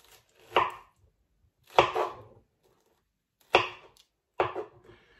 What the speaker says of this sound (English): now I'm going to chop my peaches and just cut round them and twist them to remove the stones.